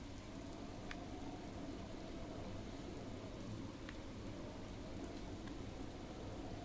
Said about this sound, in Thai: ฝนตกมันลื่นว่ะ ต้องรอฝนหยุดว่ะ